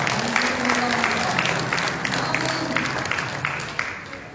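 Church congregation clapping at an evening service, a steady dense applause sustained throughout with some voices and crowd murmur mixed in.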